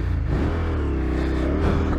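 A KTM 1290 Super Adventure S road motorcycle on a festival hot lap, its engine droning loudly and steadily under load in third gear, with no speech over it.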